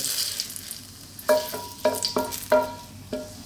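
Bay leaves (laurel) fry gently in hot oil for a Filipino beef and bean sprout sauté, with a low sizzle broken by several sharp, close utensil clinks against the pan.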